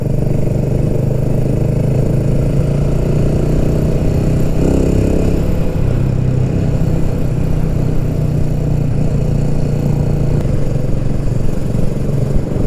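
Steady 45-horsepower motorcycle engine drone while riding on roads in Portugal, a constant mid-pitched hum with wind noise, loud and continuous, no voices.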